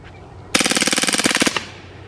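Umarex Beretta M9A3 blowback BB pistol emptying its magazine on full auto outdoors, a single rapid burst of about twenty sharp cracks lasting around one second, loud and close, with no talk.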